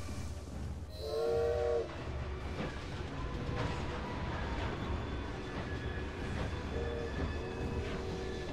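Steam-era train in Assassin's Creed Syndicate rolling along with a steady rumbling clatter, a short whistle blast near the start and fainter whistle tones later, no talk.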